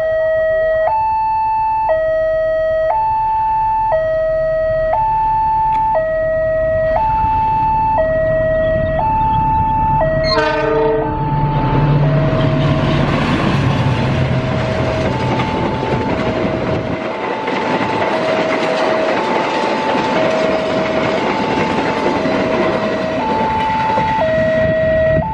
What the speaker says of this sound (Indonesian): ini dia KA Rangga Jati dari Jember tujuan akhir stasiun Cirebon